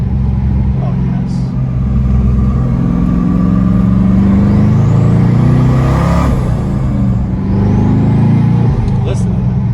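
Porsche 996 with a twin turbo LS engine swap revving to around 2,800 RPM, a loud, continuous low rumble with rising turbo whistle sweeps, talk underneath.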